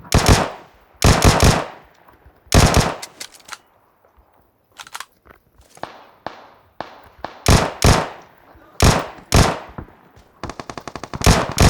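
Loud gunfire in the mobile battle royale game PUBG Mobile on the Livik map: rapid automatic bursts and single sharp shots in quick clusters, separated by brief quiet gaps.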